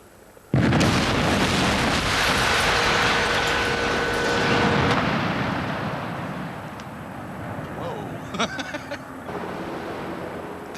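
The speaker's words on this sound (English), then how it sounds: "The dynamite was powerful enough to displace the concrete, but it's only blown half of it away" Dynamite charges blast a concrete building in a demolition: a sudden huge boom erupts and rolls into a long, roaring rumble of collapsing debris that slowly fades, with scattered crackles and clatter afterward.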